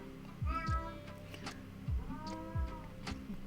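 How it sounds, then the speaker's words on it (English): A house cat meows several times indoors, drawn-out tonal cries in a loose rhythm, moderately close, with low thumping sounds between the calls and no talk over them. "my cat is getting crazy."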